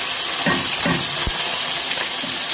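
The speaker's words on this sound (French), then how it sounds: "Une fois que l'huile est chaude, on va d'abord mettre les oignons." Onions frying in hot oil in a pan, with a steady loud sizzling hiss and a few soft clinks and stirring scrapes, without speech.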